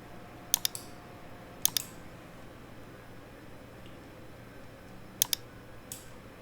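Faint computer mouse clicks while working in quilt design software, arriving in three small clusters of quick double clicks separated by quiet pauses.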